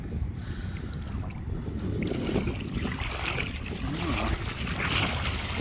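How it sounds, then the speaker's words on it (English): Sea waves break on Crigyll Beach in a steady, close wash of surf mixed with wind noise, with no voices. "You can see the waves breaking."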